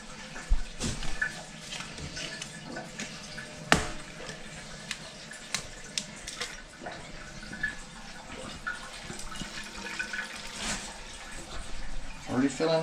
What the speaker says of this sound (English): Already filling the bowl.